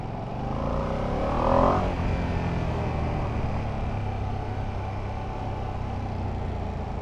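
A Ducati Panigale V2 motorcycle engine is revved with the throttle. It rises in a brief swell near the start, then settles into a steady, fairly close drone with no talk.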